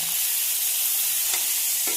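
Steady bright sizzling of salted, split dried chillies frying in sesame oil, close and continuous, with a couple of faint clicks and no talking.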